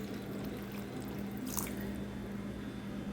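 Warm water is poured into a tajine of fried meat, a steady soft liquid wash and trickle running through the whole stretch with a brief brighter splash partway, no talk.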